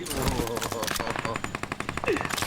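Rapid automatic gunfire from the mobile battle-royale game PUBG Mobile, a loud, dense stream of shots rattling continuously throughout, with faint game effects mixed in.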